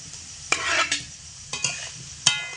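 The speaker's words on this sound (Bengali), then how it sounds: "এবার আমি এর মধ্যে দিয়ে দেব ভেজে রাখা আলু।" Fried potatoes tumbled into sizzling poppy seed paste in a pan for aloo posto, with several sharp scraping stirs of a spatula against the pan over a soft frying hiss, close and fairly loud.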